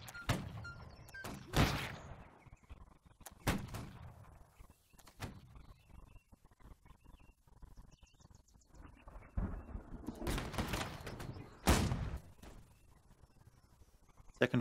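Musket volleys crackle in Holdfast: Nations At War, a battle game of the Napoleonic era: scattered sharp shots and ragged bursts ring out at varying distances, with a dense cluster of reports near the end.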